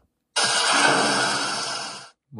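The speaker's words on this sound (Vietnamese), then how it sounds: "Rồi, cưa cái này thôi." In the horror game Granny, a saw blade fitted to a drill cuts for about two seconds as a steady, bright, buzzing whine, loud and close, stopping abruptly before a brief second burst starts.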